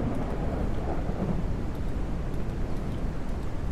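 Steady downpour with a low, continuous thunder rumble, dense and loud throughout, no voices; a thunderstorm in the survival video game Mist Survival.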